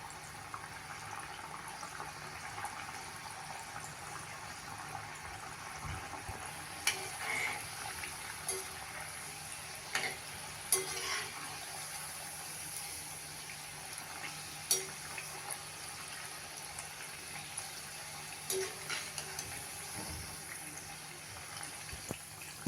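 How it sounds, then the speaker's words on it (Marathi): Jaggery kapnya, a traditional snack, frying in hot oil over a medium flame, giving a soft, steady sizzle with scattered crackles and small pops throughout, fairly quiet and with no talk. "तेल तापलेलं आहे आता आपण या सगळ्या कापण्या यामध्ये घालून तळून घेऊया"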